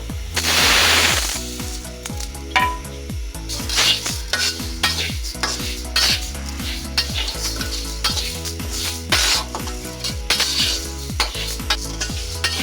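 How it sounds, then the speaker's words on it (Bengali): Moong dal lentils are dry-fried in a wok, giving a continuous crackly sizzle punctuated by quick, rhythmic metallic scrapes of a spatula against the pan, loud and close throughout, with no speech. "কড়াইতে দিয়ে দিচ্ছি আমরা ডাল এখন আমরা ডালগুলো ভেজে নিব"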